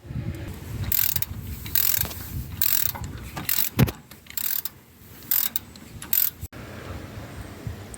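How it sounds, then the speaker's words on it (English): A ratchet turns a bolt on a Volvo XC90 during wheel bearing work, giving bursts of quick clicking at close range, broken by short pauses and a few metallic knocks. "I'm just going to switch over to the slightly smaller ratchet"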